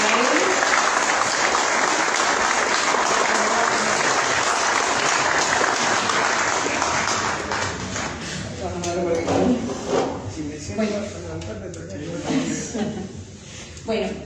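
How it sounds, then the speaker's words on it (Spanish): Loud, dense audience applause at a commemorative political gathering marking a general strike anniversary, sustained for several seconds before thinning out as a voice begins speaking over the fading clapping. "Un aplauso para él."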